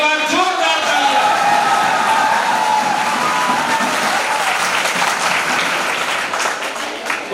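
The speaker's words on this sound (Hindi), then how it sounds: "एक बार जोरदार तालियां।" Loud applause from a seminar audience, a dense wash of clapping that holds steady for several seconds and then begins to thin out near the end. A few voices sound faintly beneath it.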